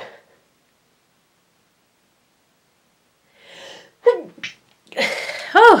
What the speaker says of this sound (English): I'm sneezing and coughing all over the place here.